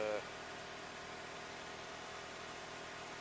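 A Toyota Tacoma 4x4 pickup idles after a cold winter start, its engine giving a steady, even hum that holds at the same level throughout.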